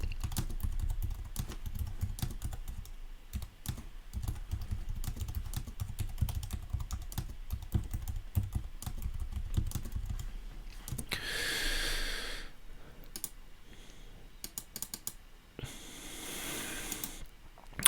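Typing on a computer keyboard, quick irregular key clicks that run steadily for about ten seconds, with a few breathy noises later on and no talking.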